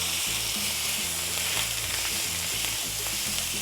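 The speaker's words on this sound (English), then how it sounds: "Once the oil is hot, we're gonna add the meat." Ground beef searing in hot oil for gorditas, a loud dense crackling sizzle right up close, steady throughout with a faint low hum beneath and no talking.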